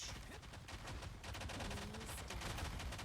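Rapid automatic gunfire in the hero shooter Marvel Rivals, a dense stream of close shots that carries on steadily through the whole stretch at an even, fairly loud level.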